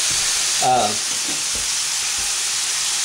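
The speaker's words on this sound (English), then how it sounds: "I would be frying up my hamburger just like this" Hamburger meat frying in a pan, a continuous bright sizzle up close, with a short voice-like sound briefly over it near the start.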